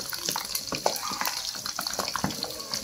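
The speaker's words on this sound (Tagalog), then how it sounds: "Bukal yung mantika." Pork belly for Cebu-style lechon kawali deep frying in boiling oil gives a close, continuous bubbling with sharp irregular pops and spatters, alone without voices.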